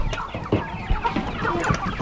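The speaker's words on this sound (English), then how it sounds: "So many chickens." Chickens cluck and squawk together inside a chicken house on a farm, a dense, close, continuous flock chatter with no one speaking over it.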